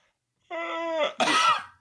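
A single harsh, loud cough bursts out alone right after a drawn-out, voiced yawn-like sound, both close and isolated.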